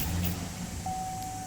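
A car engine cranks over and catches during a battery test with a Foxwell BT-705 analyzer, a short mechanical churn followed by the engine settling into a steady run, close by.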